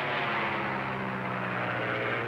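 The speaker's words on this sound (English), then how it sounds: "Listen. It's an aeroplane." A propeller aeroplane drones steadily overhead, a continuous loud engine hum with a low tonal throb that holds level throughout without pause.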